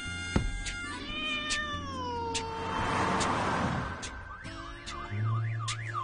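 A large wild cat, a puma of around 100 kilograms, gives a series of rising and falling wailing calls, close and clear, with sharp accents and a warbling, siren-like stretch near the end.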